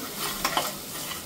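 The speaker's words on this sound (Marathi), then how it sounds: "ते पण चांगलं एकजीव करायचं." Spiced lentil mixture being stirred in a frying pan, a soft scraping and gentle sizzle with a couple of brief clinks, quiet and close with no talk.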